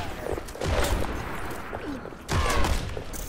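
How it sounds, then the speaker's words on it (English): Many gunshots crackle in a video game as a dense, ongoing barrage over a noisy background, with distant pops and a louder burst near the end, while players talk faintly. "There's like 40 shots going off."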